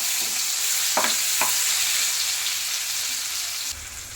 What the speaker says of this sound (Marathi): बघा, तडतड लागली. आता सगळा मसाला टाकून द्यायचा.